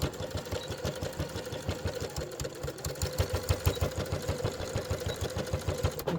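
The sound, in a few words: sewing machine sewing a fabric bag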